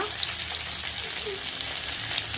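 Green chillies, curry leaves and onions fry in hot oil with a close, continuous crackling sizzle that holds evenly throughout.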